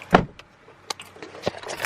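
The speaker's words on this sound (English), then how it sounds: "Let me roll down the windows." Power windows of a Hyundai Elantra rolling down inside the car, heard as a short motor whir followed by a few soft clicks and knocks, close and quiet with no talking.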